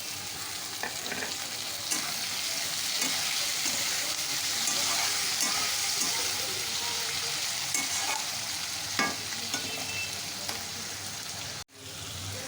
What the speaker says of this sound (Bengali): পেঁয়াজটাকে লাল লাল করে একটু ভেজে নেব। তো এখানে পেঁয়াজটা কিছুটা হয়ে গেছে, এবার আমি টমেটোগুলো দিয়ে দেবো।